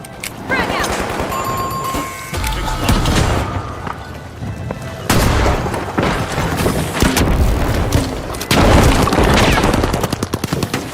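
A frag grenade detonates with a heavy boom inside a video game match, set among rapid bursts of gunfire and repeated blasts that come close and loud, with game voices mixed in.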